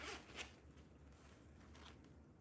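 Zipper pulled on a new Brahmin handbag still wrapped in plastic, a quick close scratchy zip followed by a softer second pull, alone in a quiet room.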